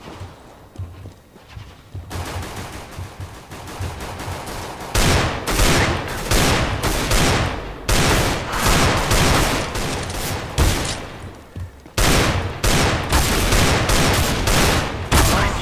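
Heavy gunfire in a shooting video game: quiet at first, then dense bursts of rapid automatic shots in loud, close volleys, with a brief pause near the middle before another long burst.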